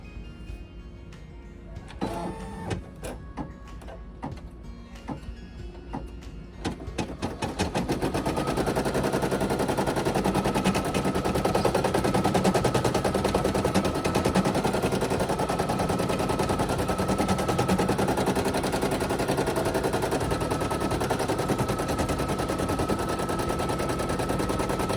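An embroidery machine stitches an appliqué design on a shirt, starting with a few sparse mechanical clicks and thumps, then settling into a loud, steady rapid needle chatter that runs on without pause.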